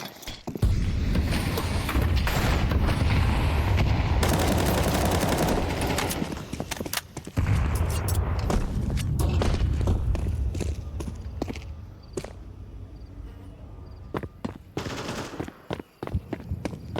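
AK-47 rifles firing in a Counter-Strike match, heard as dense rapid bursts of automatic fire in the first half, then scattered sharper shots and pauses later.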